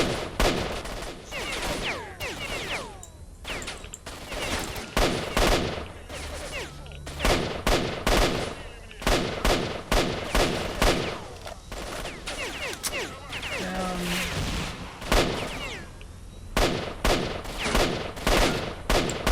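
Heavy-recoil weapons fire in the video game S.T.A.L.K.E.R.: Shadow of Chernobyl. Loud bursts and single shots crack repeatedly in close succession for the whole stretch, with short gaps between volleys.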